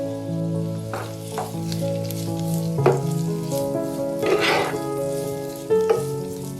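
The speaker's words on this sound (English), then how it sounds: "Add the diced sausage and cook for another minute," Diced sausage frying with corn kernels and dried shrimp in a stir-fry pan, a continuous close sizzle broken by several clattering scrapes and tosses of a spatula, no voices.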